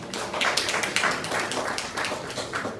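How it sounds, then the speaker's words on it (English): Audience applause at a press conference, a quick burst of scattered clapping from a modest crowd, moderately loud and fairly close, holding steady for a few seconds without voices. "Please a round of applause for him."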